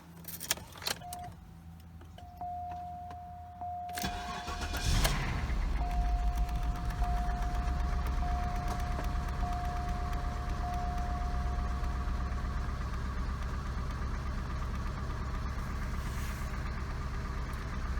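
A 2003 Cadillac Deville DHS that has sat for weeks is started after keys jingle near the ignition, with a chime ringing, a short crank, then the engine catching and settling into a steady, slightly rough idle.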